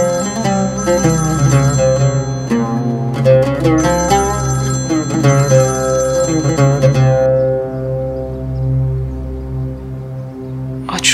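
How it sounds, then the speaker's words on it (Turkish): A telephone rings in a drama scene, a steady repeating electronic ring with layered tonal chimes sounding loud and close for about seven seconds before cutting off, leaving a softer sustained tone behind. "Telefonu ablacığım. Ne olur aç."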